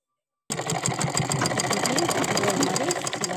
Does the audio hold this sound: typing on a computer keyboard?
no